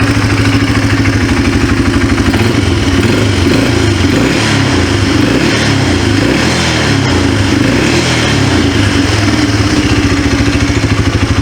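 A Yamaha 250 Timberwolf ATV, old and smoking, with a loud, steady idling engine throughout and a rhythmic low chug that fluctuates slightly as it runs alone.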